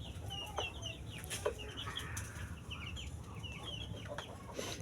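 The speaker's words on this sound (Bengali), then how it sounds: "দেখুন মুরগির বাচ্চাগুলো কত সুন্দর দেখা যাচ্ছে" Fayoumi chickens and their chicks cluck and peep around a village yard: repeated high chick chirps over low hen clucks, with a steady, moderately close flock murmur and no voices.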